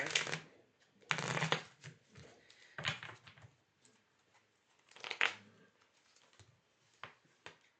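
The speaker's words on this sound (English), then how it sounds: "let's pull 3 more cards to wrap up the reading here" Tarot cards are riffled and shuffled by hand in several quick papery bursts with short pauses between them, close and fairly quiet, with faint soft talk in the gaps.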